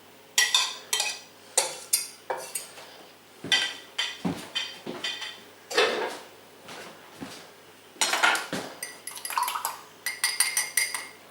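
Butter goes into drained potatoes in a pot on the stove, with repeated metallic clinks and scrapes of a utensil against the pot in an irregular rhythm, close and fairly loud.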